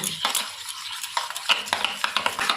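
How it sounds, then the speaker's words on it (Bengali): Sour yogurt whisked briskly in a bowl with baking powder for naan puri dough, rapid close scraping and clicking strokes against the bowl in an uneven rhythm. "খুব ভালোভাবে আমি টক দইটা ফেটিয়ে নেব"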